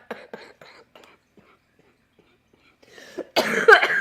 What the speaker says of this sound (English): The cough comes back when I'm laughing.